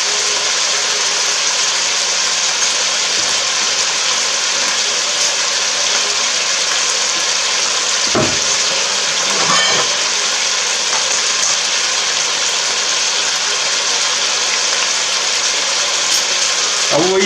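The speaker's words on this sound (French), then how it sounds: "je suis en train de saisir les oignons" Onions searing in a hot pan for a Corsican figatellu and lentil dish, a loud, steady sizzle with a few faint scrapes and clicks.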